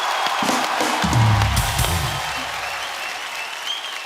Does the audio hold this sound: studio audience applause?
yes